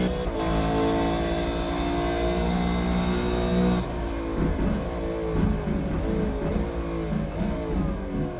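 Race car engine in the iRacing sim at Oran Park Raceway, a Super2 Series car, holds a steady high drone, then drops into rhythmic engine-braking revs and downshift blips approaching corners, loud and continuous with no talk.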